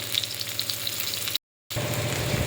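Black cumin seeds, green chillies, onion and bay leaf frying in hot oil for a curry, a loud continuous close sizzle with small pops, broken by a short silent gap before resuming.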